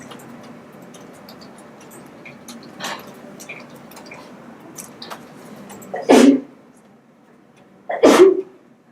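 Two loud, close sneezes burst out about two seconds apart in a quiet indoor room, with faint small clicks and ticks in between.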